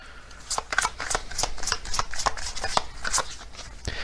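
A deck of zodiac oracle cards is shuffled by hand, making rapid papery riffles and flicks in close, busy bursts for several seconds with no speech.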